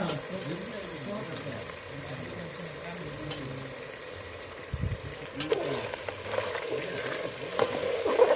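Mashed eggplant oro for a Gujarati ringna no olo cooks slowly in a pan on low heat, a soft steady sizzle and bubbling that grows louder and busier with stirring scrapes in the second half.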